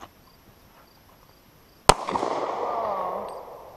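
A single sharp rifle gunshot cracks out loud and close at an outdoor ranch, followed by a long rolling echo that slowly fades.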